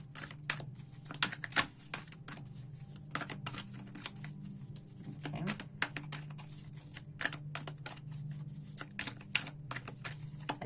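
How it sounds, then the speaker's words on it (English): Tarot cards shuffled by hand close by, a steady stream of soft riffling flicks and snaps over a low background hum, with no talking. "Okay, I'll shuffle one more."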